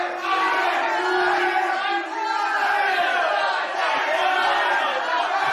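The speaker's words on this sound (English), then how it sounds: "Man, that crowd is not happy." An angry crowd gathered outside roars and shouts in a dense, continuous wall of voices, loud and unbroken apart from a brief dip.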